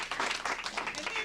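Audience clapping at a seminar in New York City on electrolyzed reduced water, a brief burst of steady applause from a small crowd.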